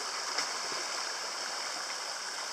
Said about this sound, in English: we're on the side of the creek